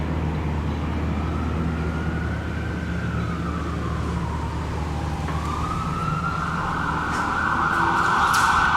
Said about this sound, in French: tu as une voiture de police qui est en train de passer